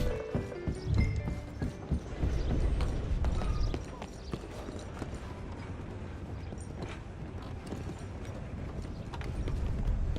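Horse hooves clip-clopping in Red Dead Redemption II, a steady run of hoofbeats with game ambience and a brief whinny-like sound near the start, moderately close.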